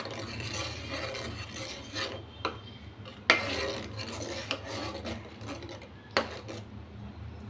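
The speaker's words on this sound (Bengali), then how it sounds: "দুধে একটু ঘি দিয়ে দিলাম অল্পই দিলাম ঘি দিয়ে দুধটাকে আগে নেড়ে দিচ্ছি" A spoon scrapes and stirs milk with a little ghee in a cooking pot, a steady rasping rub with a few sharp clinks against the metal, close and fairly quiet, no voices.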